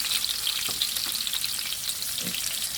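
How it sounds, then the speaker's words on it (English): Soy sauce sizzles as it hits onions and peppers sautéing in a pan, a steady bright frying hiss with a few soft stirring clicks, close and continuous, no voices. "Now that the onions and the peppers are slightly cooked, I'm going to add in some soy sauce"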